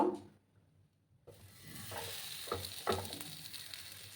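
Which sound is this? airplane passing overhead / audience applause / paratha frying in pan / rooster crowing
paratha frying in pan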